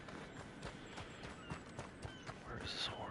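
Horse hooves clip-clop in Red Dead Online, a quiet, steady run of regular hoofbeats with an occasional faint snort, as people talk over it.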